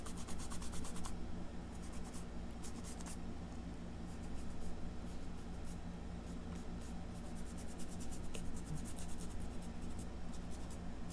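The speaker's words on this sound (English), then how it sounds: "you go back in here and you erase all your little mishmash lines" Rubbing of an eraser over a pencil-and-ink sunflower drawing on paper, a steady soft scratchy friction with quick back-and-forth strokes, close and quiet, continuing for about eleven seconds without talk.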